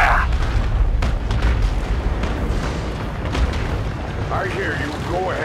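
Rumbling booms and bursts of gunfire as units open fire in a Warhammer 40,000 strategy game battle, a dense, continuous barrage with a voice shouting orders near the end.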